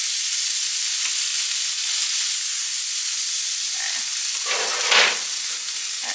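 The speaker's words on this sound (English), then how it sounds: "I'm going to take our potatoes and we're just going to cook these up" Potatoes frying in bacon grease in a pan, a loud, continuous close sizzle and hiss with a brief stirring scrape and crackle burst near the end, no talking.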